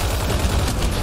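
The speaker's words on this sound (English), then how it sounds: "Who is shooting at me?" Dense, loud bursts of gunfire in the video game Mass Effect Andromeda, rapid overlapping shots filling the short moment.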